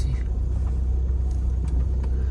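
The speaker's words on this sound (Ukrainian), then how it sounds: "Ось авто запаркувався" A car idles and rumbles at close range while pulling into a parking spot near forest cottages outside Kyiv, a steady low engine drone with no voices.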